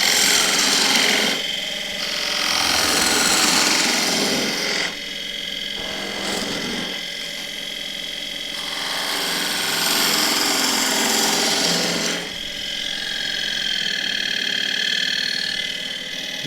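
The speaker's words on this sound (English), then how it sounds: "I'm just going to use the detail gouge with the very long bevel" A detail gouge with a long bevel cuts a tall spruce goblet on a wood lathe, producing a continuous near whirring hum overlaid with rasping shaving noise that swells and fades as the cut moves.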